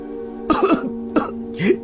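Three short, harsh coughs close up, spaced about half a second apart, with nothing else around them.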